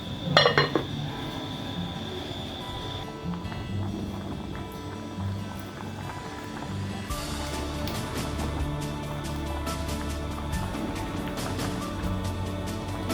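A metal lid clanks onto a cooking pot of rice and chicken, giving one bright clink near the start followed by a lingering ring, then softer metallic rattles and a steady kitchen background.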